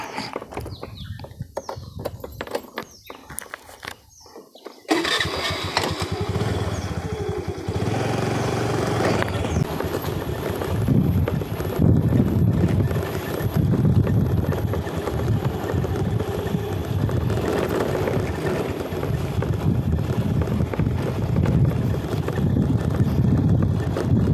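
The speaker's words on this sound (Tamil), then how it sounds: "நம்ம வண்டி ஸ்டார்ட் பண்ண நம்ம வண்டியோட சவுண்டு தான் கேட்கும் வேறு எந்த சவுண்டும் கேட்காது" A vehicle engine starts partway through after some handling noise, then runs loud and steady close by. Wind buffets the microphone on a mountainside in dense forest.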